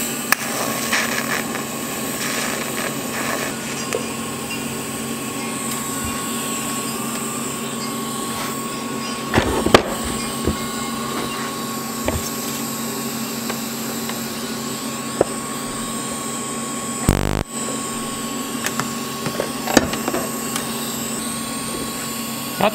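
TIG welding on steel: a steady, continuous electrical hum and buzz from the torch arc running the whole time, close up, with a few sharp clicks and one brief louder burst midway.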